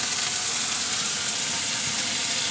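Pointed gourd frying in a pan as poppy seed paste goes in, a steady bright hissing sizzle with light stirring, close and continuous with no talk.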